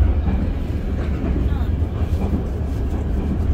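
Steady low rumble inside a moving train carriage on a rail journey in Greece, a continuous close hum and rattle running throughout with faint voices mixed in.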